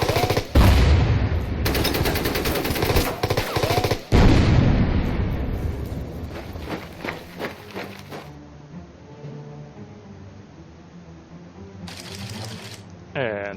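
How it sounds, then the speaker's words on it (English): Heavy artillery barrages in Order of Battle: Blitzkrieg pound in dense, loud bursts, then thin into scattered distant booms and rattling fire, with a voice talking over parts of it. "Right, artillery. Wow, that is nasty."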